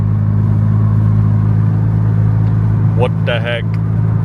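Loud turbocharged car engine holding a steady low rumble at around 2,000 RPM, close by and continuous, with a brief exclamation from a person partway through.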